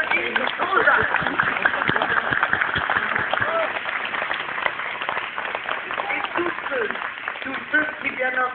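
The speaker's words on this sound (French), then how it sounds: "On applaudit Gonzague." An audience at La Forêt des Livres, a book festival in a small village, applauds with sustained, dense clapping from a crowd, steady and fairly loud, with voices mixed in.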